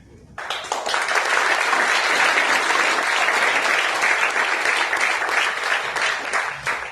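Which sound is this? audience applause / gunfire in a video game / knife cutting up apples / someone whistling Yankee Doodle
audience applause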